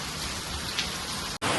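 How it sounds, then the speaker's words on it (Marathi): Heavy rain pours down at a resort in Karjat, a dense, steady hiss of falling drops close by, with a brief dropout near the end and no voices. "पाऊस जोरदार सुरू आहे"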